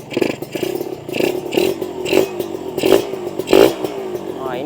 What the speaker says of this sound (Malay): Ini baru betul motor, geng.